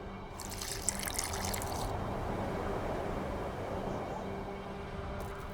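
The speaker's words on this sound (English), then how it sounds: "A bit of water." Water pours and trickles steadily in The Witcher 2 while in-game ambience hums underneath. A brighter splashing layer fills the first two seconds, then a softer continuous flow carries on to the end.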